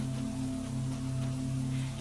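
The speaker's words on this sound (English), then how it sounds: "soft and even, pattering gently against the leaves far above you" Gentle rain patters on forest leaves in a soft, even, steady hiss, with a constant low hum running underneath.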